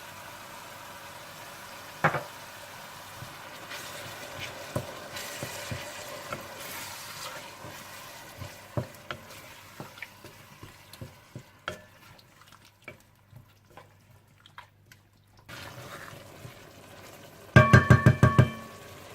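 Turmeric, salt, chicken cube and yogurt stirred into a masala in a pan for chikar cholay, with soft sizzling and scraping knocks of a spoon throughout and a burst of louder clatter near the end.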